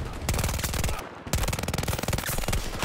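Gunfire in Battlefield 2042, loud rapid automatic bursts with a steady hammering rhythm, broken by a brief pause before a second long burst, close and dominant throughout.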